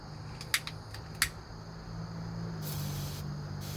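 Olive oil cooking spray hissing from a can in two short bursts, then a longer spray, near and fairly faint over a low background hum.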